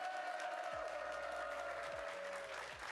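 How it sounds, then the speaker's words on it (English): Soft, fairly distant clapping from an audience at the RLCS World Championship esports event, a steady patter under a faint tonal hum. "Give yourselves a round of applause."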